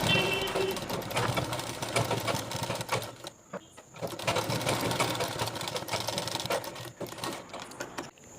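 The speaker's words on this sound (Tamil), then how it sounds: "இப்போ பாருங்கள், நம்ம இந்த ஓரம் ஃபுல்லாக ஒரு பதிவு தையல் போட்டுடலாம்." Sewing machine running a full line of stitching along the edge of a turned men's kurta collar, a rapid rattling mechanical whir in close bursts with a brief pause, fairly quiet and without talk.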